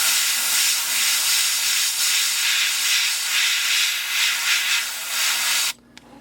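An airbrush sprays paint onto a fishing lure in a mouse fur pattern, a steady close hiss with slight pulses as the trigger shifts, cutting off abruptly near the end.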